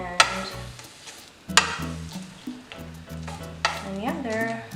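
Ingredients browning in a frying pan for red enchiladas, a steady close sizzle with a few sharp clacks of stirring, no talk over it.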